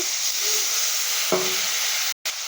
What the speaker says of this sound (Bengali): দেখুন জল দিয়ে ভালো করে কষিয়ে নিচ্ছি আমি একটু।